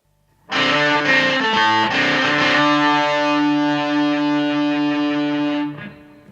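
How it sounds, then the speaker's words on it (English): A sustained, heavily distorted electric guitar chord played through two distortion pedals rings out after a few choppy opening strums, thick and saturated, then cuts off and fades near the end. "the two pedals work really great together, each compensating the other's downsides, and delivering exactly the kind of distortion"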